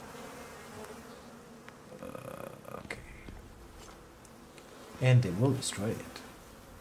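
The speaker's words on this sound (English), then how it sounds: "Those goddamn bees will attack the ramps." Bees in the survival game Icarus buzz as a low steady drone beneath someone talking, with a louder burst of sound late in the stretch.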